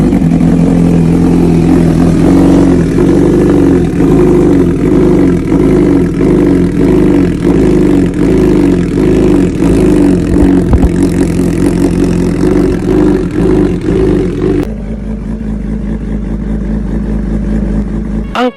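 A Bimota Tesi H2 supercharged sport motorcycle runs loud and close, its steady mid-pitched engine note rising and holding through repeated revs, then dropping to a lower idle near the end.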